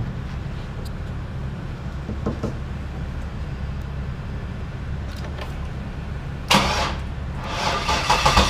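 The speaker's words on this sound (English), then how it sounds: "Try to start it. Yeah, see if it'll start." A rear-wheel-drive turbocharged Trailblazer SS on a dyno, stock motor, cranks over a low steady drone before a sudden louder burst as the engine catches and starts.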